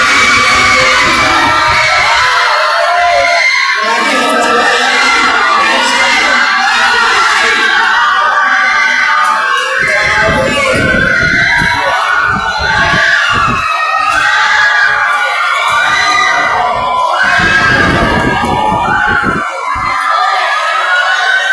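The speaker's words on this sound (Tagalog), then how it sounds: "Grabe yung crowd dito ng Love Drive. Napakaingay." A loud basketball crowd at a junior division barangay summer league game cheers, whoops and shouts at the buzzer, with children's screams in a sustained roar.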